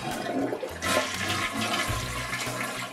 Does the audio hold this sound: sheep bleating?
no